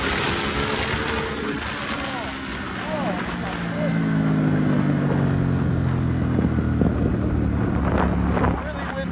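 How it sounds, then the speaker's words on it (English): Strong wind buffets the microphone in a steady, loud roar, with the engine of a Ducati Hypermotard 950 SP motorcycle droning underneath. "Extremely windy."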